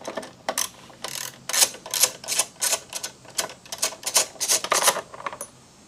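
A 5 mm Allen key works cowl bolts loose on a 2018-2023 Honda Goldwing, giving a quick run of crisp ratcheting clicks and metallic ticks in close succession, near and fairly loud, with no talking.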